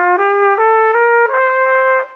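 Trumpet sustaining a series of stepped tones with a tight, closed aperture, giving a pinched, constricted sound; loud and close, four held notes in succession with no talk.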